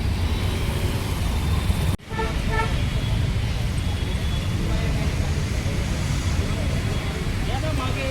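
Busy city traffic on a road in Pune near Shaniwar Wada, a dense, continuous wash of engines and road noise with car horns tooting through it and one brief dip partway through.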